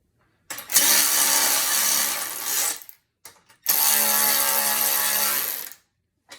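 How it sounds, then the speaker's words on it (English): A ratchet with a 17 mm socket tightens a bolt while assembling a Marcy SM-4903 home gym, giving two loud, sustained bursts of rapid clicking separated by a short pause. "I have my ratchet. And all you need to do is just put pressure on the head of the bolt."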